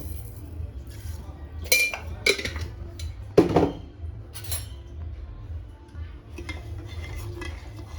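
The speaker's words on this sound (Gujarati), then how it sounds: "અહીંયા હું બે ચમચી ખાંડ એડ કરીશ" Spoonfuls of sugar go into a pot of methi seed coffee: several bright metallic clinks and taps of a spoon against the vessel in the first half, then quieter stirring over a low background hum.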